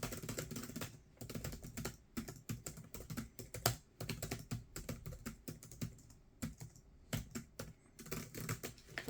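Rapid, irregular clicking of laptop keys in bursts with short pauses, close and fairly quiet, with no one speaking.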